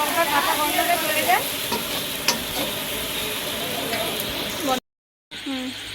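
Spices sizzle in a pan as a ginger and garam masala paste goes in for potato curry, with close scraping stirs over continuous frying, a brief silent gap near the end, and faint talk in the background.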